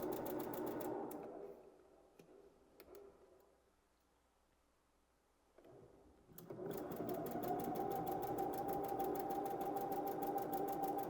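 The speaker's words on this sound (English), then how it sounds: "I set my machine to a very slight zigzag" A sewing machine set to a very slight zigzag stitch runs in a rapid mechanical whir, pauses briefly, then starts again and stitches steadily at full speed.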